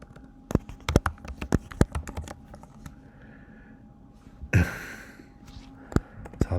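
Quick, uneven bursts of keystrokes on a computer keyboard, close and crisp, with a brief breathy sigh or rustle in the middle before a few final taps.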